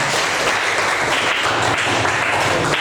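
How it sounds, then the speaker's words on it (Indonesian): A room of students claps together in dense, sustained applause at the end of a coding and AI lesson, steady and fairly loud throughout. "Oke, tepuk tangan."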